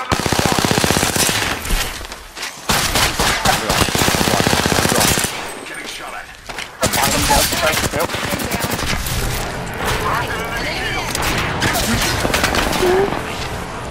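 Rapid automatic gunfire in an Apex Legends match, loud, sustained bursts with brief gaps, overlapping shots from several weapons close by, with voices talking under the shooting.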